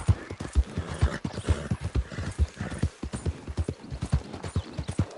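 In Red Dead Redemption 2 a horse gallops with loud, close, rhythmic hoofbeats, one of them a brief whinny, and a voice cuts in faintly now and then.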